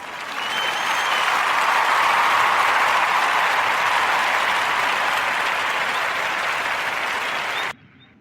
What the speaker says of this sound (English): Let's give a warm narrative podcast round of applause for that.